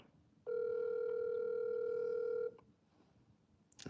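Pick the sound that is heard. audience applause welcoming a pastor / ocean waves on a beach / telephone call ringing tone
telephone call ringing tone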